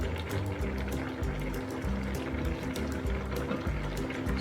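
Hot water from cooked pasta pours out during draining, a close, continuous gurgling gush with bubbling, uneven glugs as the pot is tipped.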